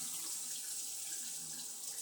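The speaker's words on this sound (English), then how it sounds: "I'm going to wash it with hot water." Hot water runs steadily from a faucet into a sink while winemaking equipment is washed at home, a continuous close splashing hiss with no pauses or voices.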